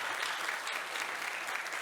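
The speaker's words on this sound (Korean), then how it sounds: "박수 좀 쳐요." Brief, fairly faint applause from a congregation at a church revival meeting, a steady patter of many hands clapping for under two seconds.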